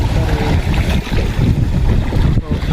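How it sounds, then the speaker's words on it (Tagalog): Strong wind buffets the microphone in a steady low roar, with broadband rushing noise throughout, like gusts out on open water. "Lakas ng hangin sa baba."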